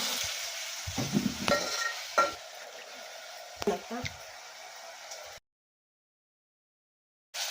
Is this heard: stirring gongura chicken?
yes